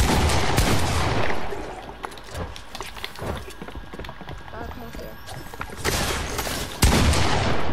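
Gunfire in Fortnite, scattered sharp shots and short bursts at varying distances, mixed under people talking and game noise.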